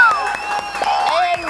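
An audience claps and cheers for a guest on a Spanish-language interview show, a short burst of steady applause blended with voices talking over it.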